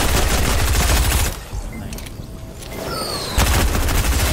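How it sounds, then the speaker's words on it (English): Rifle gunfire in the low-gravity battle royale game Knockout Air Royale: dense, loud bursts of rapid shots at the start and end, with a quieter gap in between. "It's obviously a rifle, okay."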